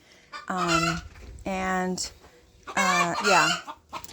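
Laying hens in the main chicken coop of a Vacaville garden giving their egg song, three loud drawn-out clucking calls spaced by short pauses, close by with quiet clucks between.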